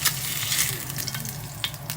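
Tocino sizzles and spatters steadily in hot oil in a frying pan while cooking a Filipino tocilog breakfast, a close, continuous crackle with small popping bursts and no talking.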